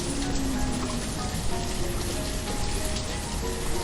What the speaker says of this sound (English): It goes quite dark when it gets rainy.